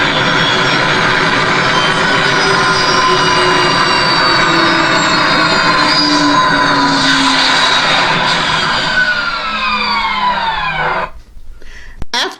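A jet aircraft roars loudly and steadily for about eleven seconds as it comes in to land, its whine sliding slowly downward before cutting off abruptly into near silence.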